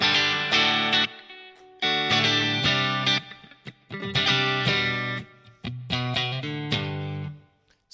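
Distorted electric guitar chords ring out loud through a Line 6 Pod HD500 Tweed B-Man Normal model of a Fender Bassman amp, strummed in bursts with pauses between, thick and saturated with an amplified crunch.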